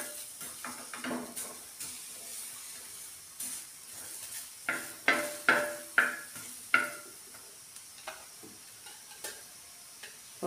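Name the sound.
chopped onion sautéing and being stirred in oil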